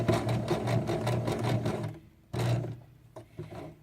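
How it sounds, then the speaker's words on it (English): A domestic sewing machine stitching a beginner's tote bag, backstitching in reverse to lock the seam: close, fast mechanical whirring in two bursts with a short pause between. "I'm going to use my reverse button, lock my stitches down"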